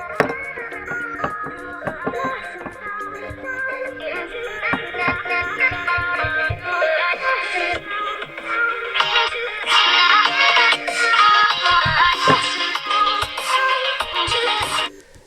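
Music plays through the speakers of an Infinix Hot 11S phone, a steady tinny track with a beat and a melody that gets fuller and louder partway through, then cuts off at the end.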